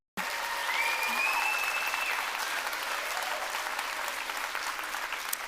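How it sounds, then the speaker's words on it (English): An audience at an adult and family education celebration breaks into applause that starts abruptly and continues as a full, even roar of many hands, with a faint whistle or voice rising briefly within it. "Yes, you can applaud."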